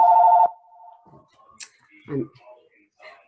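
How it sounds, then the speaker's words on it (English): A mobile phone rings in a room: a short, loud electronic tone opens the clip and stops quickly, followed by scattered clicks and brief bits of talk. "my phone is ringing. So I'm sorry."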